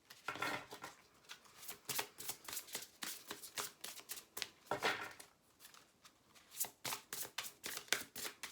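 Tarot cards shuffled by hand for a reading, a steady run of crisp riffling bursts close up, pausing briefly near the middle before resuming, with no talking.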